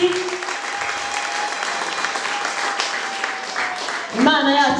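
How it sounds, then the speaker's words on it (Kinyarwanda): A congregation breaks into sustained applause for God during a worship service, dense clapping filling the room throughout, with a held tone underneath and a burst of singing or music entering near the end. "Twongere Imana amashyi."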